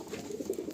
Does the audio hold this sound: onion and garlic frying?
no